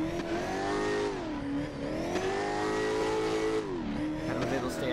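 A Ford Mustang in a racing video game, its engine revving loudly and continuously with rising and falling pitch through gear changes and corners, tires squealing under hard driving.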